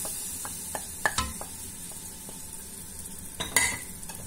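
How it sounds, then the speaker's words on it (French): Garlic and spices sizzling with meat in a hot pan, a continuous close hiss broken by light clicks and scrapes of a utensil against the pan, with no talking. "Et maintenant, je vais mettre l'ail et les épices."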